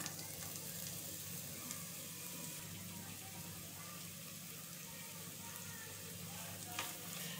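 Chopped onions frying in a pan with panch phoron and whole cumin for mini singara filling, a steady close sizzle running evenly throughout with no talk.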